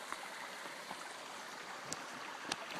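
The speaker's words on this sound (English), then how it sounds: "Don't know if you can see the brook" A mountain-fed brook runs through fields near a home in Damascus, making a steady, soft rushing wash of water with a few faint splashes and no talking.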